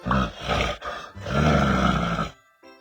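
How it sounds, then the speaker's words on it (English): A bear roars loudly and close up in long, rough, growling bursts with a brief break, then fades into a faint trailing grunt, with no talking over it. "Bear."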